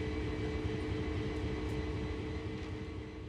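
A locomotive in Train Sim World idles with a steady, droning diesel rumble and a constant mechanical hum, heard up close and alone at an even loudness.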